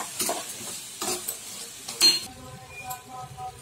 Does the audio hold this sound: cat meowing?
no